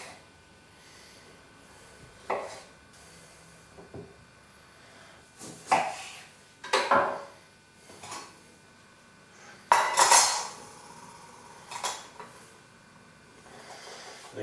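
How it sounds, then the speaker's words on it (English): Cherry tomatoes are halved with a knife for Thai green papaya salad, a handful of separate, irregular cuts that knock against the board, with quiet pauses between them. "cherry tomatoes, you want to just chop those in half"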